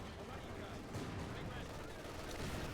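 Dense, continuous battlefield noise from Company of Heroes 2, with rumbling gunfire and Maxim machine gun bursts blending into a steady wash of combat sound, moderately loud and unbroken throughout.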